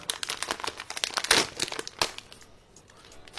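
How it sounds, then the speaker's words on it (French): A small plastic sachet of dry shisha tobacco is opened by hand, giving close, busy crinkling and rustling that fades to quieter handling near the end. "Vous avez le petit sachet, donc on va l'ouvrir."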